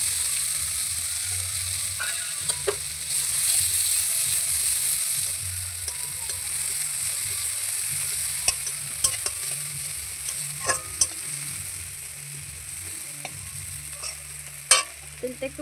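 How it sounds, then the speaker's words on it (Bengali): Onions frying and being stirred in leftover fish-frying oil with five-spice seeds: a steady close sizzle throughout, punctuated by scattered sharp scrapes and clicks of a spatula against the pan, no talking. "পেঁয়াজ দিয়ে দিলাম।"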